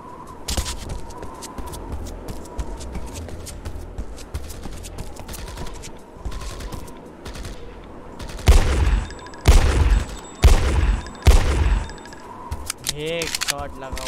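Gunfire in the video game IGI 1, sharp shots and short bursts crackling over steady game background noise, with a cluster of louder shots near the end and a voice talking over the action.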